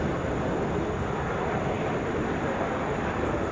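A Delta Airbus A321 takes off from Atlanta, heard as a steady, distant broadband roar of jet engines that holds constant throughout without a clear rise or fade.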